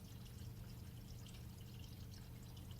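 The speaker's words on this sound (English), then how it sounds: "the tap will keep running beyond the 500 milliliter mark" Water runs steadily from a SmartTap automatic faucet, a continuous close pouring hiss with no break.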